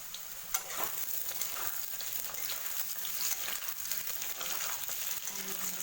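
Potatoes frying in a pan of hot oil, crackling with a steady, dense sizzle and a few stirring scrapes, close and continuous.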